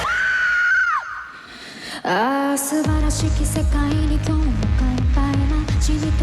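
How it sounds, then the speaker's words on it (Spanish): A singer performing a song live, a long, loud sustained high vocal note that bends down and breaks off, followed after a pause by a pounding band with rhythmic heavy drums. "pegó un grito tremendo"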